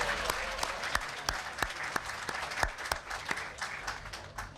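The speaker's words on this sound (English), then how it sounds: "Round of applause." Elected officials, city staff and Barrio Latino Commission members get a round of applause at a community event in Ybor City, with sparse, fairly close claps in an uneven rhythm over a light murmur.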